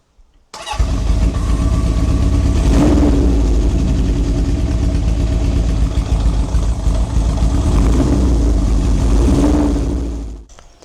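Honda CB750 café racer motorcycle with a fault running on one cylinder, started up and left to idle for about ten seconds, a loud, close, uneven engine rumble that cuts off at the end.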